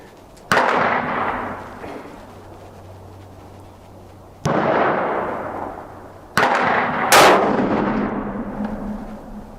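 A new 6.5mm Creedmoor rifle fires three loud, sharp shots at an outdoor range, spaced a few seconds apart, each crack followed by a long rolling echo that fades before the next.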